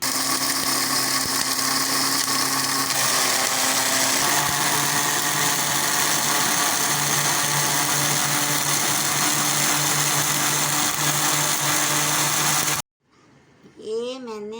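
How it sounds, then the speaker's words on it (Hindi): Electric kitchen grinder whirring loudly and steadily as it pulverises ajwain, acacia gum and moringa gum into powder in a small bowl, a continuous motor drone with shifting pitch that cuts off near the end, followed by a brief voice. "इसको ग्राइंडर इसमें कटोरी के अंदर डाल दिया है"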